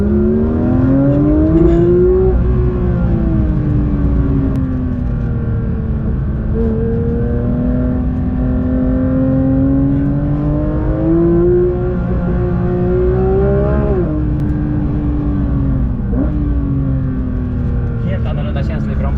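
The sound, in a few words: Porsche 911 GT3 accelerating at full throttle on track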